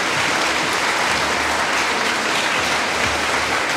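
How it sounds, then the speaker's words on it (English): A school awards ceremony audience breaks into loud, dense applause, a continuous wash of many hands clapping that holds steady throughout without pause. "We'll give a big round of applause for Colin."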